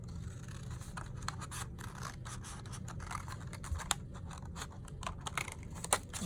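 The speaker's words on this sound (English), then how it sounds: "Sometimes with scissors on heavier paper, it happens." Scissors cutting heavy paper for a paper-weaving loom, giving a quiet run of close, crisp snipping and scratchy rasps in short repeated bursts.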